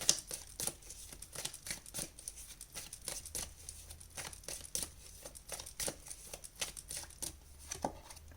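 Tarot cards being shuffled and drawn from a deck: close, soft crinkling riffles and quick papery taps in an irregular patter, with no voices.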